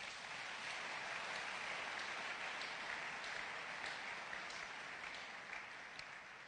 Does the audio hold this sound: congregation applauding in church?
yes